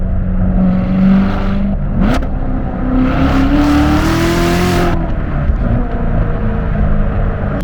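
A 650 hp 2017 Chevrolet Corvette Z06 revs hard, its engine note climbing sharply through a gear, with a quick shift and another loud rising pull heard from inside the car.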